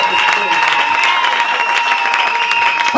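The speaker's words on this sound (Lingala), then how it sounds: "Acclamez très fort pour le roi des rois" Church congregation applauding and cheering during a service, loud continuous clapping from a large crowd with scattered shouts rising over it.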